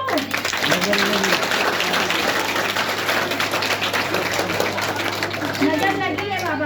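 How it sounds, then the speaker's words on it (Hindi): A group of people clapping hands during a science demonstration show, with steady dense applause running throughout and a constant low hum underneath. "ताली ये बजाओ।"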